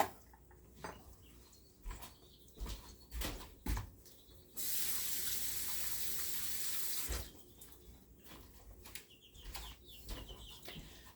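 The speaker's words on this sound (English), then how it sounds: "Washing my spoon" Kitchen tap gushing steadily for a couple of seconds while a spoon is rinsed under it, framed by scattered clinks and clatter of the spoon and utensils before and after, close and with no voices.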